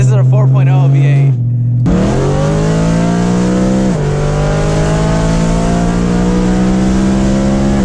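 A V8 sports car, a 4.0 or 4.3 litre BMW M3 or Audi R8 with a loud exhaust, roars hard from inside during acceleration, its pitch climbing through gears with a sharp shift gap, loud and continuous.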